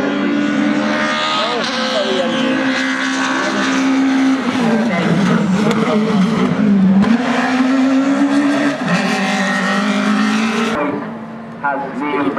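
A Ford 2.3-litre rally car races past at a stage rally event, its engine roaring loud and sustained with rising and falling revs for most of the clip before fading near the end, with some talk mixed in.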